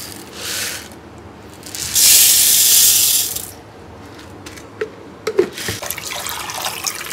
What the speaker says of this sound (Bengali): দু তিনবার ভালো করে কষলে কষলে ধুয়ে নেবো ডালটা